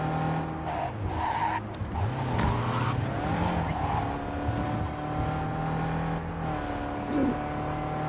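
A car races and skids in the video game Cyberpunk 2077, engine droning continuously with repeated tire squeals and shifting revs, loud and close throughout.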